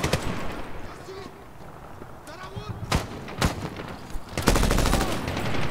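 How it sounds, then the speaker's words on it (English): Mortar blasts and gunfire ring out in a Call of Duty battle, with several sharp booming impacts and a burst of rapid fire near the end, mixed with game ambience. "Mortars, other side of that fence."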